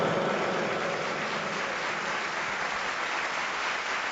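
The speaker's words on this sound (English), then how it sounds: "A round of applause for the bravest man I have ever known." A circus audience breaks into steady, broad applause that holds at an even level throughout, a dense wash of many hands clapping with no voices standing out.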